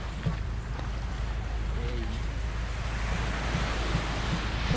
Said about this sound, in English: first destination, 7 Commandos Beach daw.